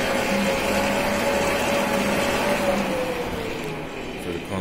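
A Wattbike indoor trainer with a console that shows no readings is ridden, giving a steady, close whooshing fan whir with a faint humming tone that holds evenly throughout and eases slightly near the end.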